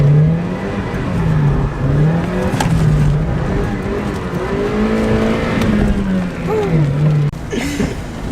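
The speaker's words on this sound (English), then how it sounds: "Should I drift it?" Mazda Miata engine revving and wavering in the rain while drifting, a loud, close, sustained drone rising and falling in pitch over wet road noise, with a sharp burst of tire or spray noise near the end.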